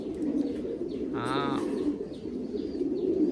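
Thai Titan pigeons on a farm give a short, clear coo near the middle, heard against a steady background murmur and a single brief spoken word.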